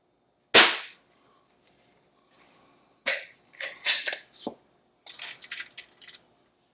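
An Umarex Trevox air pistol fires a Crosman Premier hollow point pellet at a 10-meter range target: one sharp, loud crack, followed by a few fainter clicks and mechanical knocks as the gun is handled.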